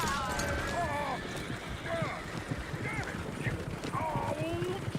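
Horses' hooves clip-clop steadily close by in Red Dead Redemption 2 while voices talk over them, with a few whinnies rising in between.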